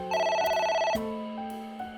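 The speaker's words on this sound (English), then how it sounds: "Phone rings" A telephone rings inside a video game, a bright electronic bell tone that trills for about a second and then shifts to a steadier, lower ringing tone. The ring is loud and close, with no voices over it.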